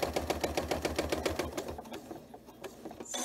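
A sewing machine with a walking foot stitching a quilt on the bias, running in a fast steady rhythmic chatter for about a second and a half, then stopping, leaving a few faint handling sounds.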